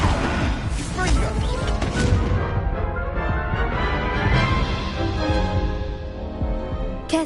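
A Confringo fire-blast spell bursts in Hogwarts Legacy, a loud crashing explosion followed by rumbling, crackling debris and fiery roar that slowly decays, with a sharp extra impact near the end.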